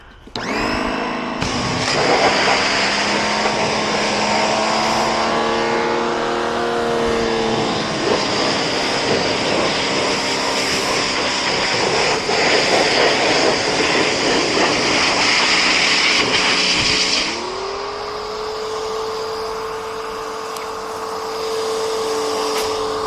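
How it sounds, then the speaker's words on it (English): A pressure washer engine runs loud and close at a motocross race track, a sustained droning whine with shifting pitch that drops to a lower idle near the end, with no talk. "Told you I was having problems with my pressure washer. There we go."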